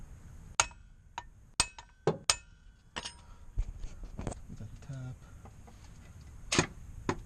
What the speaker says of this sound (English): So I should be able to tap this with a hammer.